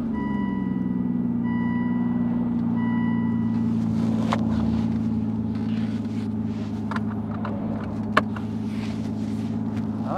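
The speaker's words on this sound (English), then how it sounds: "So let's start this V12 Vantage up." An Aston Martin V12 Vantage with a manual gearbox idles in a deep, steady rumble after starting up. It sounds close and even, with a few faint clicks and light knocks over the engine note and no speech.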